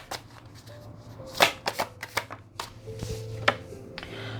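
Tarot cards being shuffled by hand during a reading, a series of crisp riffling and slapping bursts close by, with a faint low hum underneath and no talking.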